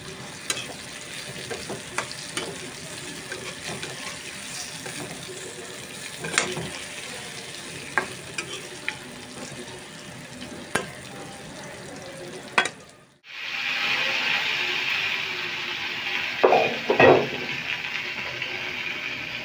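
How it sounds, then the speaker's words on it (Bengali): Pointed gourd (potol) frying in a pan and being stirred, with scraping and clattering over a low crackle, then a brief hush before a steady, bright sizzle with a few sharp spatters near the end. "পটল ভাজা হয়ে গেছে, উল্টে পাল্টে নিব এখন।"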